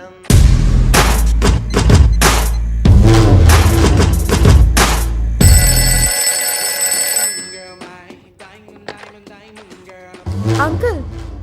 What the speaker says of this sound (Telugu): Daddy phone ring daddy.